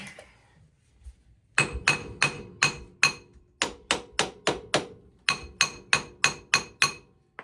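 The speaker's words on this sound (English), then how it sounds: "all I'm doing is using the hammer to kind of vibrate and shock the drum" A hammer taps the metal brake drum of a Kawasaki Mule utility vehicle in a quick, even series of sharp ringing strikes, close by, after a short quiet start.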